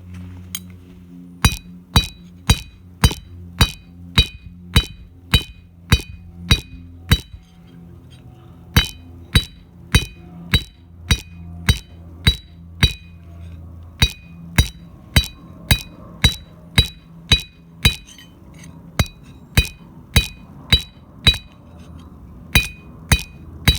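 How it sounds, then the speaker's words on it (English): Hand forging of steel into crevicing tools, with a hammer ringing on hot steel and anvil in a steady, evenly spaced series of sharp metallic clinks, loud and close, with brief pauses between runs of blows and no talk. "Got another 3 bits of steel in the fire, and I'll show you guys how I'm forging these."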